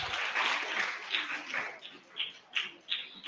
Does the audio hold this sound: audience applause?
yes